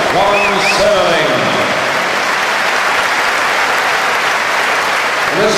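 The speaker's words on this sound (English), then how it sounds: "let's see the applause going for this man." A large tennis crowd at the 2011 Brisbane International applauds a men's singles finalist, a loud, sustained roar of clapping, with a stadium announcer's voice briefly heard at the start and again at the end.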